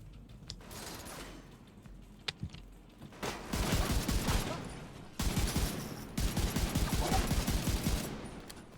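Bursts of rifle fire in The Division 2, two long rapid-fire volleys of sharp, evenly spaced shots after a few isolated pops, fairly quiet overall.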